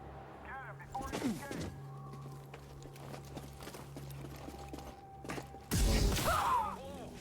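Blaster gunfire in Star Wars Jedi: Fallen Order, scattered shots and clattering bursts with a loud burst near the end, mixed with game sound effects and a steady hum.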